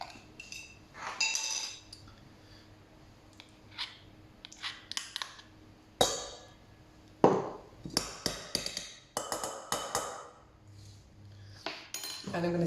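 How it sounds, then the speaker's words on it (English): Egg yolk and Dijon mustard whisked in a bowl, heard as a quiet run of irregular metallic clinks and taps against the bowl, bunching into quicker bursts in the second half. "I'm going to start to whisk it, and I'm going to whisk this egg yolk and the mustard until it starts to thicken"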